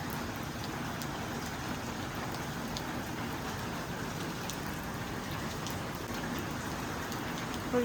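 Heavy rain falls at an Andaman beach resort, a thick, even roar of drops pattering on nearby surfaces, with faint individual splashes ticking through the constant wash and no one speaking.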